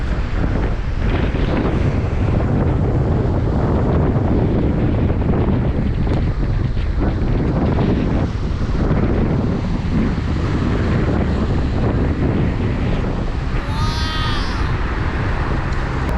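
Strong wind buffets the microphone continuously with a heavy, rumbling roar, steady and loud throughout, on rocky open ground, with faint chirps briefly near the end.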